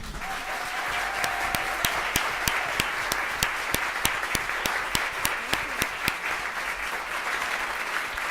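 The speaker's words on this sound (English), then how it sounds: "I think we should give these young people one more round of applause." An audience at a school committee meeting gives students a sustained round of applause. Many hands clap in a continuous roar, with a few sharp individual claps standing out close by throughout.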